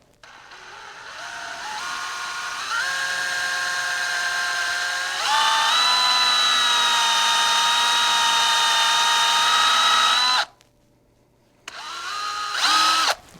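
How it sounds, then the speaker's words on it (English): A power drill whines as it bores a large hole into a wooden antler mount, pitch rising in steps as it speeds up under load, a brief pause, then it spins up again. "Do my best job to drill a straight hole."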